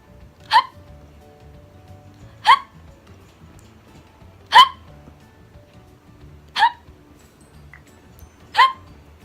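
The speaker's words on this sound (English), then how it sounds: "oh my god, I have the hiccups now" Five sharp hiccups spaced about two seconds apart stand out clearly over a quiet indoor background, each one brief and fairly loud.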